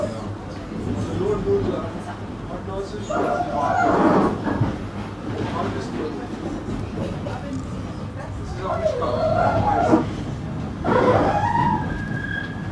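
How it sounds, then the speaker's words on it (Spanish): Rumbling rail noise of passing intercity trains with clattering wheels, heard from inside Munich station, while people talk over it at moderate volume. "Mira esos hermosos trenes."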